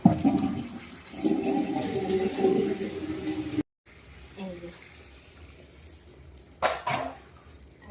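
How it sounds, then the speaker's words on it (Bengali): Water poured into a pan of frying potato and pointed gourd curry gives a loud, rushing, bubbling gush for about three seconds. After a short gap come quieter clatters and a brief later burst. "এবার একটু জল দেবো"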